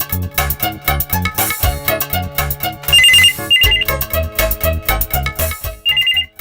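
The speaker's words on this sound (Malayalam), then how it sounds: "ആ ഫോൺ എടുക്ക" A telephone rings with a loud, close musical ringtone, a fast repeating pattern of electronic notes and beats that continues throughout without pause and with no one talking.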